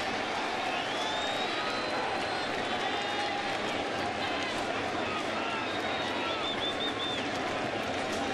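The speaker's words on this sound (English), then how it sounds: "Kind of that tepid applause like," Tepid crowd applause at a New York baseball game, a thin, scattered clapping and murmur from distant stands running throughout beneath a commentator's voice.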